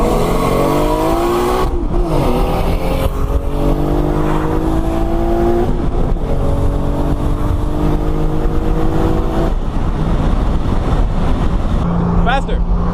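Mark IV Toyota Supra accelerating hard in a race against a Lamborghini, loud engine revs climbing through several rising gear pulls with brief drops at each shift, close up, with people talking over it.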